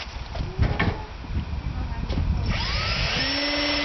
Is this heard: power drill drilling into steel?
yes